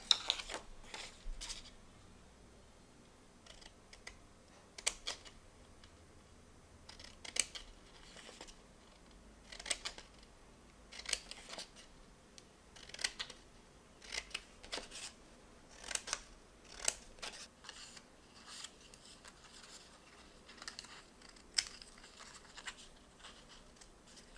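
Scissors snip through black paper to cut small window slits for a handmade zoetrope, giving a long series of quiet, irregular cuts and rustles with no talking.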